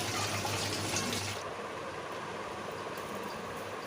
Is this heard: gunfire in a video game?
no